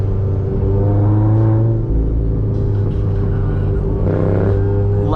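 Mazda Miata ND fitted with Goodwin Racing headers, engine running very loud and close with a steady deep rumble, rising revs and throttle swells near the end, no talking.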